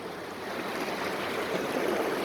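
Flowing stream water makes a close, steady rushing and babbling sound, alone and unbroken.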